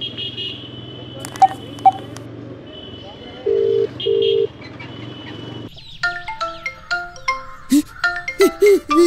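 A phone ringtone plays as a call is placed, with a steady electronic tone followed by a run of short, bright melodic beeps, fairly loud and close, next to outdoor background noise.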